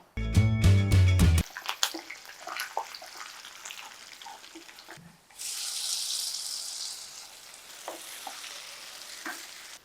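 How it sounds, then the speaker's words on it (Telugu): Tempering spices dropped into hot oil for a raw banana curry with mustard paste, giving a brief loud crackle at the start, then a softer steady sizzle with stirring clinks and a louder hissing stretch midway. "తాలింపు వేసేసుకుందాం"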